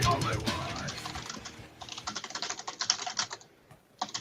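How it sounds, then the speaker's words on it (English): Typing on a computer keyboard during a live stream, close and fairly quiet, with a fast irregular patter of clicks that thins into separate bursts of keystrokes after a short pause near the end. "As I murder my keyboard"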